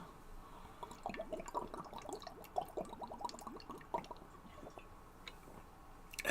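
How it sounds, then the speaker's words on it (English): Gulping sips from a water bottle at a picnic, a steady run of wet squishy swallows and trickles repeating for several seconds, close and fairly quiet. "that water bottle makes when you take a drink"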